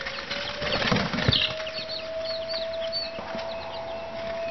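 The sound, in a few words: young chickens clucking and fluttering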